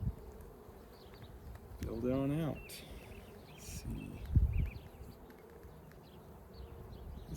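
Honey bees drone steadily throughout a hive inspection, forming a constant buzzing bed under a beekeeper's nearby voice and some handling noises.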